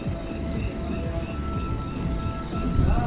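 A train runs past a rail crossing in Crimea, giving a continuous rumbling clatter of wheels with faint metallic squeals and tones layered over it, fairly close and steady throughout and swelling slightly at the end.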